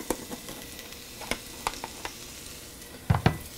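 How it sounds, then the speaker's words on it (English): Garlic sizzles in a hot soup pot while being stirred, giving a soft, low frying hiss broken by scattered clicks and scrapes of a utensil, near and fairly quiet with no voices. "We can already hear it sizzling"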